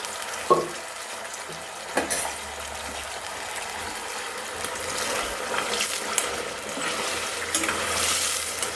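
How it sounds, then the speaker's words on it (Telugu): Steady sizzling and bubbling of mutton deep frying in hot oil, with occasional clinks and stirring scrapes. "ఈ బబుల్స్ అన్నీ పోయేంత వరకు మనం వేపుకోవాలన్నమాట అంటే డీప్ ఫ్రై అయిపోవాలి"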